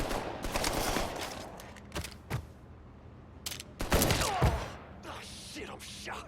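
Gunfire in the Mafia III video game, several sharp shots and bursts cutting through a busy, noisy mix, with a loud cluster near the middle and a voice talking around them.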